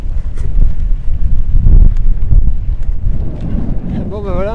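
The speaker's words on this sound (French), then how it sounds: "je sais pas si vous allez m'entendre avec le vent" Wind buffets the microphone during a mountain bike ride through fields, a loud, gusty low roar that rises and falls, with a voice briefly heard near the end.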